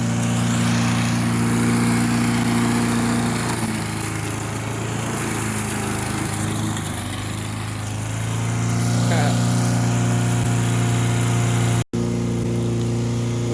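A small lawn mower engine runs steadily at idle nearby in a backyard, droning continuously throughout with a brief dropout near the end.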